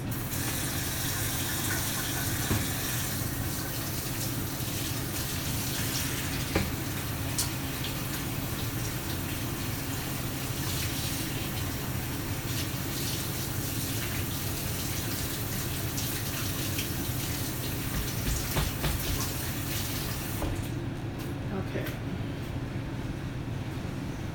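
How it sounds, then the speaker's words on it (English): Tap water runs steadily into a kitchen sink while hands are washed under it during home cooking, a continuous broad hiss and splash at even loudness that cuts off near the end. "Let me wash my hands."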